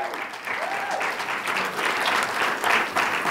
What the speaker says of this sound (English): All right, give them a big round of applause before I pray for them.